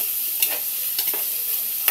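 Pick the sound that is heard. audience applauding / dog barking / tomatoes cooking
tomatoes cooking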